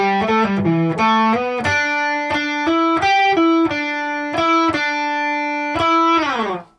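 A distorted electric guitar plays a solo, loud and alone, with a run of bent, sustained notes and quick picked changes before the final note fades out.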